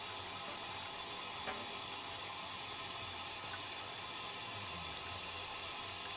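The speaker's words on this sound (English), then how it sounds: "All the water's warming up." Tap water runs steadily into a sink as it warms up for a muddy dog's bath, a continuous even hiss and splash heard close, with no talking.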